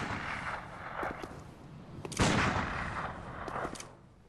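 Gunfire in the Bloodborne video game: a few muffled shots and one louder booming blast in the middle, set against a continuous rumbling game soundscape.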